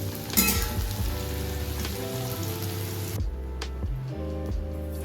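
Potato pieces fry in hot oil in a pan, giving a close, steady sizzle with crackling bubbles that eases slightly partway through.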